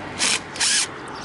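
A screw being backed out of a dry ridge tile on a roof with a power driver, heard as two short, close whirring bursts.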